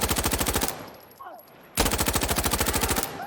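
An MP5 in Insurgency Sandstorm fires two loud, rapid full-auto bursts, each a fast even rattle of shots, separated by a short quieter gap with faint handling clicks.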